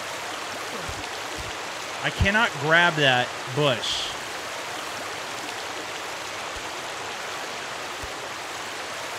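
A gentle waterfall in a climbing video game makes a steady, even rushing wash throughout, while someone speaks briefly over it.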